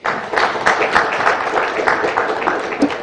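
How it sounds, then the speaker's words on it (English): An audience at a New England business breakfast and networking gala claps and applauds steadily for a few seconds, a dense, continuous patter of many hands in a room. "A round of applause to Mama."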